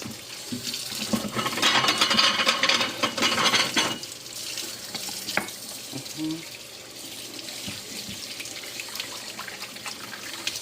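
Water from a kitchen tap splashes over tuna being washed in a sink before cooking paksiw, loud for the first few seconds and then quieter with scattered handling clinks.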